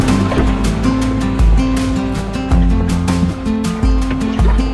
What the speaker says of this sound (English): fortunately the wind and the waves pushing us the right directions